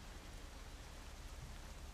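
Rain falling in Hitman 3, a steady faint hiss of downpour with no pauses and no voices.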